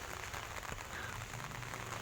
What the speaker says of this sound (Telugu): వర్షం మాత్రం ఉండి ఎక్కువైపోతుంది